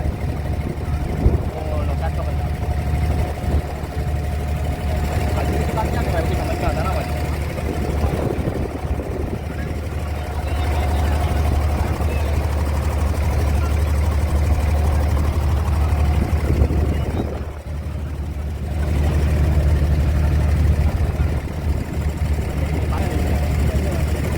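A Dubai abra water taxi's engine drones low and steady throughout, with indistinct voices murmuring over the rumble.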